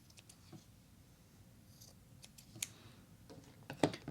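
Scissors trim paper for a steampunk Alice-themed covered envelope, producing a few faint, close snips and light paper rustles spread across a quiet moment, with one sharper cut near the end.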